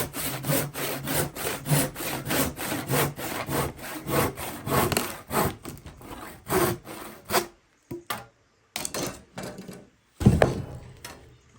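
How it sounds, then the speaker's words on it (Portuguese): Hand saw cutting wood for an eco fireplace build, rapid rhythmic back-and-forth rasping strokes, close and clear, slowing into a few separate final strokes before the cut finishes. "Venho com o serrote de novo."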